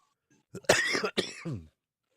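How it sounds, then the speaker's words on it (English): A single harsh, close cough followed by a short throat-clearing rasp, loud against silence. "God, this cough."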